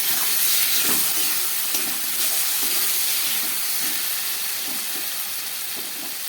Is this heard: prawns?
yes